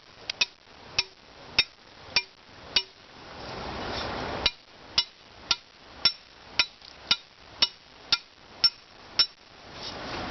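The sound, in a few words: hammering an earth anchor into the ground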